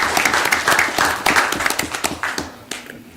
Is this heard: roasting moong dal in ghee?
no